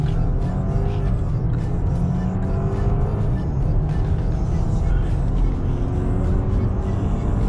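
A chip-tuned BMW 520 launches hard from a standing start, its engine roaring loud and steady throughout with a dense, continuous drone and no letup.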